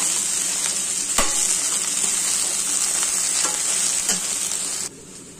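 Sliced okra fries in a pan with a steady, bright sizzle, broken by a few scraping stirs of a spatula before the hiss suddenly drops away near the end; no talking.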